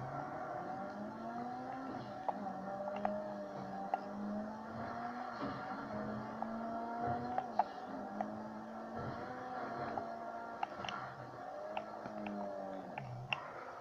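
Sports cars racing across a runway in a video game, a steady, fairly quiet engine drone with rising and falling revs and faint clicks, no talking.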